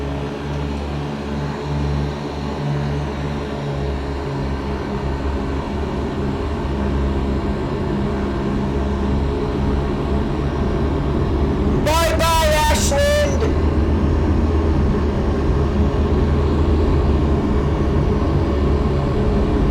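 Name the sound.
airplane engine during takeoff, X-Plane 11 flight simulator video game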